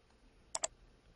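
A computer mouse gives two quick, crisp clicks close together, sharp and near against a quiet room background.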